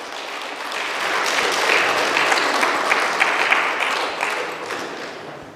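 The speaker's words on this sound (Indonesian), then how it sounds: "tepuk tangan sekuat-kuatnya" Audience applause, loud and sustained clapping from a large crowd that swells slightly and holds for several seconds before tapering near the end.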